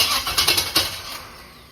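Starter cranking on a 1976 Corvette V8 with an electric fuel pump, a short burst of quick whirring churns with a squeal that catches and fades within under two seconds, close and loud.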